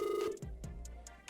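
A telephone rings faintly with a short electronic trill, followed by several brief, evenly spaced beeps.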